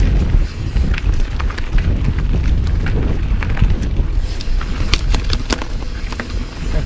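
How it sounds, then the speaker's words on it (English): Steady wind gusts roar across a wooded trail at Fair Hill, Maryland, a loud continuous rush with buffeting on the microphone and no talking. "All the wind we've had, it's still pretty windy today."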